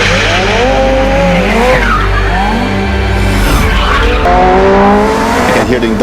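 A McLaren Senna in the Need for Speed No Limits racing game roars close and loud, its engine pitch sweeping up and down with gear changes while tires squeal and skid through a hard slide.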